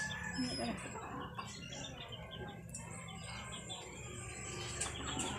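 Pigeons calling outdoors, with scattered chirps and other fowl among steady open-air ambience and faint voices in the background.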